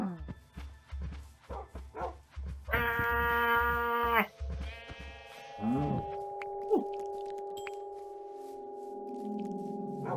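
A sheep in the video game Minecraft bleats in short, clear tones, close by. Game chirps and a steady synthetic drone follow, and footsteps sound faintly at the start.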